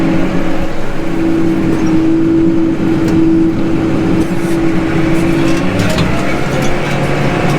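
A tractor engine drones steadily and loudly up close while plowing an organic barley field, holding a constant pitch before easing down near the end.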